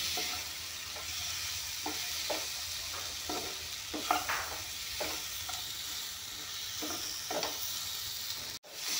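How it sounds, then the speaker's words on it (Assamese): Green chillies fry in a pan while a spatula scrapes and stirs them in a series of distinct strokes over a constant sizzling hiss, heard close with no one speaking. "এইখিনি অলপমান ভাজি ল'ম ধুনীয়াকৈ।"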